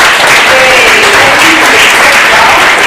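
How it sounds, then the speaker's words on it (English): Dense, loud applause fills a conference hall as the audience claps continuously, a steady wash of many hands close to the microphone with no talking over it. "to these amazing ladies and gentlemen, a round of applause, please"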